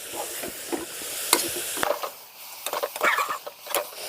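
Dill leaves frying in a pan for a rice pilaf, stirred with a wooden spatula that scrapes and knocks repeatedly over a light crackling sizzle, close and fairly loud.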